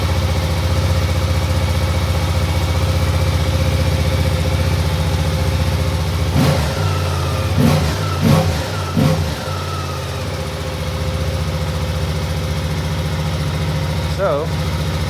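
A Suzuki GSX-8R motorcycle engine idles steadily in neutral, a close, continuous low rumble with a few brief clunks and blips midway while a person talks over it.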